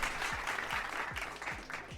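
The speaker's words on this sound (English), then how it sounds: "I'm gonna clap it up for those." Hands clap in a steady, even rhythm, about two claps per second, close and moderately loud, with a faint hum underneath.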